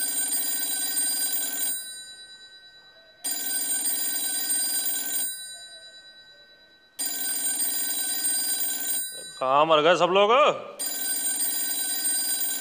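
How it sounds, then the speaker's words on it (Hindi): A telephone bell rings in repeated long bursts, three clear rings separated by short pauses, loud and close indoors, with a voice briefly speaking between rings before the ringing resumes. "कब से फोन बज रहा है यार"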